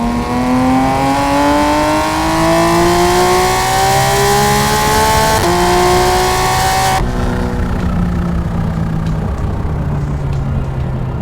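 A supercharged Porsche GT3 with an active exhaust revs loudly toward 9,000 RPM with a high, rising wail. The note cuts abruptly partway through, and the engine drones on at a lower, steadier pitch.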